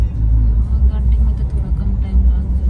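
Interior hum of a car driving along a road toward school, a steady low engine and road rumble running throughout, with people talking over it.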